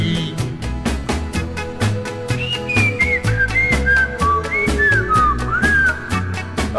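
A person whistles a short melodic tune over a steady country-style backing with a regular beat, the whistled notes clear and prominent mid-track on a vinyl novelty record.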